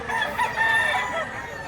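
A rooster crows nearby, a drawn-out wavering call over faint background noise.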